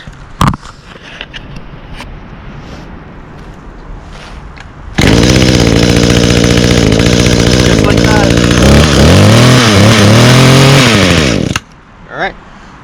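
Small garden power tool with a freshly replaced carburetor, likely a trimmer or hedge trimmer, starts up after quiet handling and runs loud and close for about seven seconds, revving up and down before cutting off, with a voice speaking.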